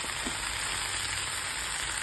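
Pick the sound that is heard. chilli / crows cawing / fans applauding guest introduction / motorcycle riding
chilli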